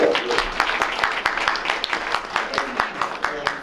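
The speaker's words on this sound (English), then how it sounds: "I would really appreciate it if everyone would give her a clap" Audience applause at a city council meeting, a steady crowd of clapping hands filling the room at moderate loudness, with a voice talking over it near the start.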